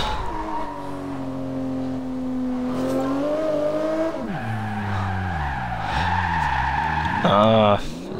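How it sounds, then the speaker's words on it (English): A Bugatti EB110 in a racing video game skids and drifts, its engine droning and shifting pitch under long tire squeals, loud and continuous, with brief voice-like sounds mixed in. "It's not very good at drifting."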